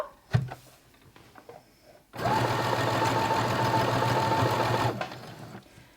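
A Brother CS10 sewing machine runs a steady straight stitch through felt, a continuous whirring mechanical drone lasting about three seconds, close and loud, preceded by a few light clicks and handling sounds.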